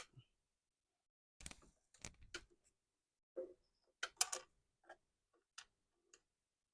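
Ticking alarm clock prop resting on a car dashboard, sparse clicks and ticks at uneven intervals, close and faint against silence, with a few brief handling knocks.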